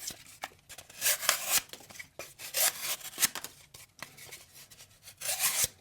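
A Kentucky Holler Jack knife with a hollow ground blade slices through layered cardboard, making repeated close, raspy tearing strokes in uneven bursts separated by short pauses.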